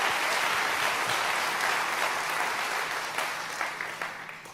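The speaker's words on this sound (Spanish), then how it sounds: "Dale fuerte ese aplauso al Señor." A church congregation claps together during a sermon, a dense, steady applause that slowly fades toward the end, with no voices heard.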